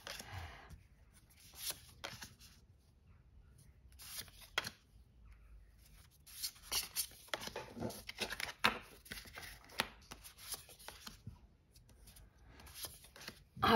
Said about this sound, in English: I don't want to riffle shuffle. These are too big for me. But I can at least try.